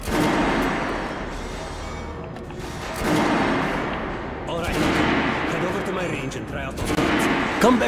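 Sustained gunfire and heavy combat noise from an assault rifle, a long-range gun and a shotgun tried out in Metro Last Light Redux, a dense rumbling wash of shots with someone talking over it.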